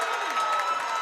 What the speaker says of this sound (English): you hear the crowd of Falfurrias super happy